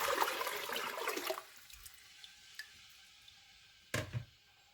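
Water is poured into a pot of pinto bean and green chili soup, a brief loud splashing pour at the start that fades, followed by quiet kitchen knocks and a short clatter.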